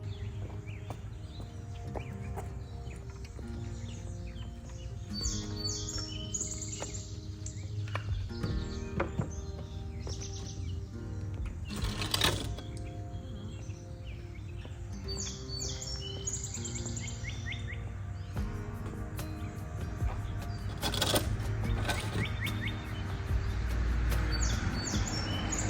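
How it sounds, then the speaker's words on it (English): Birds chirp and call repeatedly in a garden with a cut-flower stand on a muggy, humid July morning, bright scattered tweets over a low steady background hum, some near and some farther off. "The birds are chirping."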